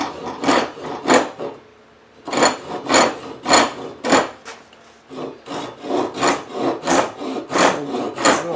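A hand saw cuts dovetail sockets in wood with a steady back-and-forth rhythm of close, rasping strokes, pausing briefly twice before resuming.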